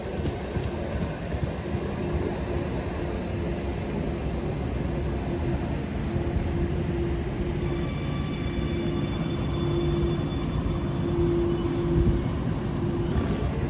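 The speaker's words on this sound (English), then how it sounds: "Departing now is the timeway metro service off to St James's via the coast" A Tyne and Wear Metro train pulls away from a station on the Northumberland line, a steady rumbling roll with a sustained high wheel squeal rising and wavering, a hiss fading early, no talk.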